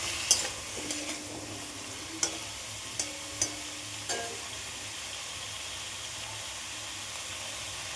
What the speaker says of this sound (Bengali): এবারে এটা আমি একটুখানি নাড়াচাড়া করে কিন্তু ঢাকা দিয়ে রেখে দেবো।